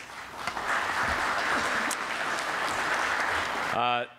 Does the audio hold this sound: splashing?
no